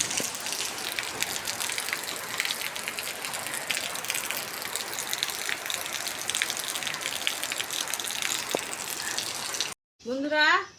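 Sudden heavy rain pours down in a steady, dense rush and patter near the house, and a voice briefly rises at the very end.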